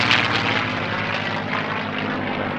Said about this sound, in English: the airframe of the Mustang as we see it here with a Rolls-Royce Merlin engine